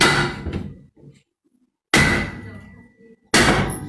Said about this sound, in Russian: ночью, в дверь квартиры, где живут ее родители, постучали.